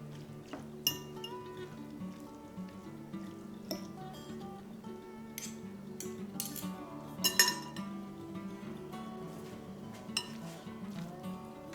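Utensils shred sous vide pulled pork, giving scattered metallic clinks and scrapes at irregular intervals over soft background music.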